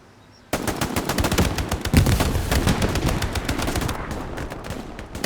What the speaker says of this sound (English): Covering fire from a second machine gun off screen there